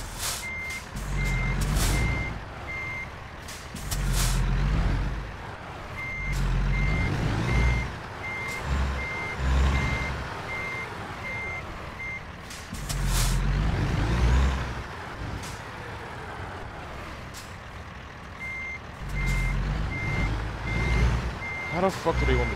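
A truck with trailer in American Truck Simulator backing into a tight parking spot, with regular reversing beeps repeating in bursts over a low engine rumble and occasional air brake hisses, while someone talks over it.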